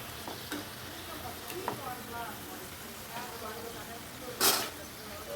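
An egg snack ball fries in oil with a moderate sizzle and light stirring clicks, broken by a brief louder splash of spitting oil near the end, while someone talks over it.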